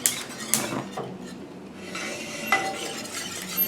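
Milk being stirred into an egg yolk mixture in a pan, with a spoon scraping and clinking against the pan in a few close, distinct strokes over a soft background.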